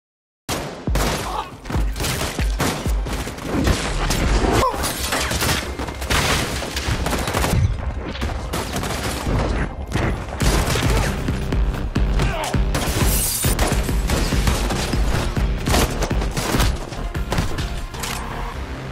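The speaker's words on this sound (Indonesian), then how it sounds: "kapten pun datang hingga terjadilah baku tembak lagi" Sustained gunfight from an action film, with dense bursts of gunfire, booms and crashing impacts running continuously and loudly for the whole stretch, layered over a busy film soundtrack.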